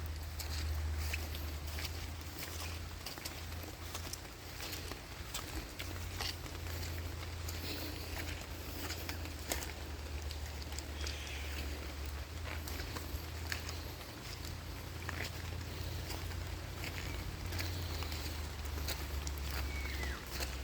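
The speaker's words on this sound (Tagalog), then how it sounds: "Puyog ng ulan ah." Heavy rain falls in a forest as a dense, steady patter with scattered sharper drops, a constant wash of noise through the whole stretch.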